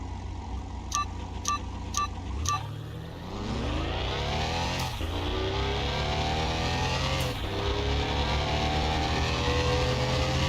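Aston Martin DBX on racing slicks with no tuning, racing in Car Mechanic Simulator 21: a loud engine revs hard through rising gear sweeps with shifts, steady and close, after a few short beeps at the start.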